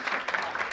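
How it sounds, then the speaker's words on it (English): Short burst of audience applause at an educators' forum, a brief patter of clapping from a seated crowd at moderate distance, fading quickly. "That deserves a round of applause."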